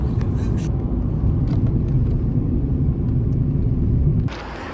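Car driving on the road, a steady low engine and road rumble holding loud and even for about four seconds before dropping off sharply near the end.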